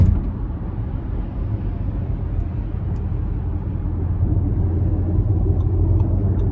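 A 2023 Audi SQ5 accelerates in comfort mode, its engine and exhaust giving a continuous deep, rumbling drone that swells slightly toward the end, heard steadily and fairly loud with no talking.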